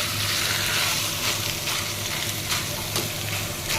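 Tomatoes and egg sizzle in a hot pan with a steady, dense crackle, close and fairly loud, with faint stirring throughout and no talking.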